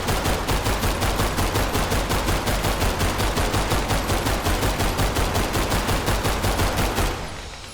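Automatic gunfire in the Roblox game Grave/Digger: a loud, rapid, evenly spaced stream of shots runs for about seven seconds, then cuts off abruptly, with no voices.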